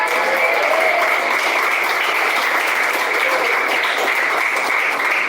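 A church congregation claps during an energetic sermon, a continuous dense wash of applause at steady loudness that fills the room from start to finish, with no voices on top.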